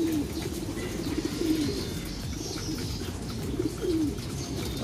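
Pet racing pigeons coo repeatedly at close range while feeding, soft throaty calls recurring in a steady rhythm over a constant low rumble of background noise.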